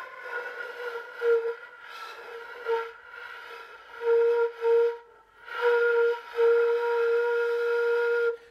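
A ney flute produces a breathy sustained tone in short phrases, the pitch wavering and catching as the note settles, then holding steadier toward the end, close and alone.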